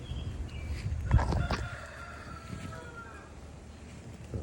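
A rooster crows once, a bit distant and moderately loud, over a quiet outdoor background.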